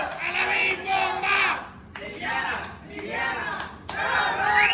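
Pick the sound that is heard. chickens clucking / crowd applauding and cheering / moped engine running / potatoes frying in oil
crowd applauding and cheering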